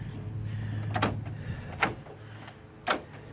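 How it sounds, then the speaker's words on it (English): A Toyota Matrix door lock actuator fires three times, each a short sharp mechanical clunk spaced about a second apart, heard up close over a steady low background hum. "It opens and closes the door like it's supposed to."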